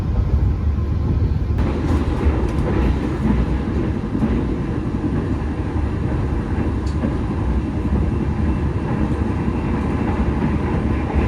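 The Argo Lawu executive express train runs on rails between Yogyakarta and Jakarta, giving a loud, steady rumbling roar with faint rattles and clicks throughout and no talking.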